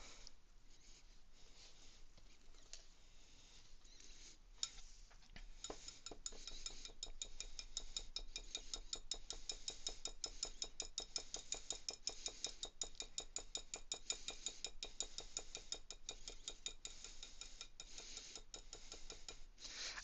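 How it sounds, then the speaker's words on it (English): Stiff cookie dough being whisked in a bowl, a steady run of fast, rhythmic scraping and rasping strokes that starts quietly and grows louder and more regular after a few seconds, close by with no talking. "really freaking hard to whisk."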